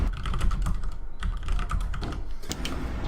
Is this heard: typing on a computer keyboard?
yes